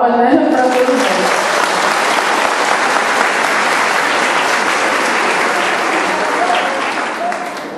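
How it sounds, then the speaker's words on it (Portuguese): Sustained audience applause at an education department's pedagogical conference in Brejões, loud and steady, with a voice briefly audible at the start, fading slightly toward the end. "Uma salva de palmas, né, para todos nós."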